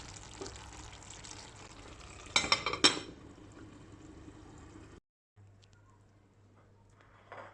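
Okra stew with green tomatoes and a spoonful of vinegar simmers in a pot with a steady low bubbling hiss, a few sharp utensil clinks against the pot partway through, then a near-silent pause before faint simmering resumes.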